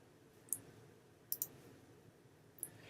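Three crisp mouse clicks in a quiet room while selecting in an image editor: a single click, a quick double click, then another single click, with no talk.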